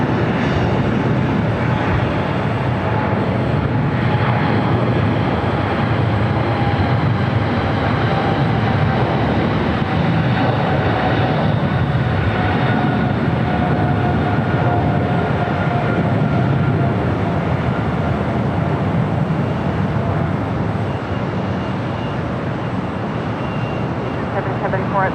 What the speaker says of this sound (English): Eva Air Cargo, the 777 freighter now rolling down at 25 right.